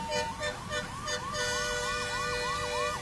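A fire brigade truck's siren cycles in steady up-and-down wails over busy highway traffic noise at a chemical wastewater pipeline burst in Badlapur East. Faint voices and rumbling come first, then the siren grows fuller and closer.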